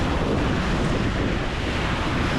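Ocean waves surge and wash around a sailing boat racing in the Round the Island Race, a dense continuous roar of surf mixed with heavy wind buffeting the microphone, loud and unbroken.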